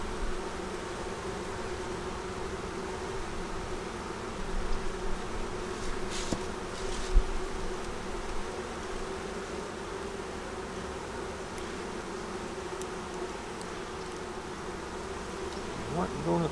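Honey bees buzz steadily at a hive in cold weather, a continuous close drone of many wings with occasional louder passes as single bees fly near, and no talking.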